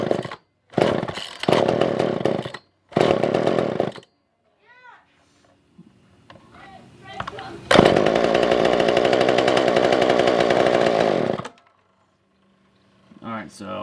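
A Poulan 2000 chainsaw with the choke on is pull-started, giving short bursts of cranking and sputtering and then a loud, sustained engine roar for several seconds that cuts off, with speech nearby.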